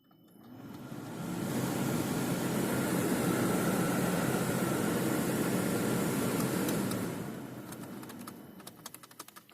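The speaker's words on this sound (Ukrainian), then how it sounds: "Я думаю, що всі чули, що моторчик е, працює." A Renault Scenic 2 cabin heater fan motor whirs with a broad airy hum for several seconds, then winds down toward the end, with a few faint clicks.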